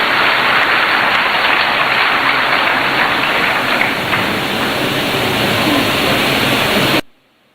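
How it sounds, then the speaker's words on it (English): Steady, dense round of audience applause at a Ghanaian town hall gathering welcoming a regional minister, a loud continuous wash of clapping hands that holds for about seven seconds and then cuts off abruptly. "Let us welcome him with a warm round of applause."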